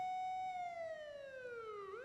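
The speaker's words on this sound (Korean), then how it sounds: "갑자기 경찰차가?" A single police car siren in a horror video game wails at a steady pitch, then slides steadily downward with a bright, buzzy tone, heard alone without any talking.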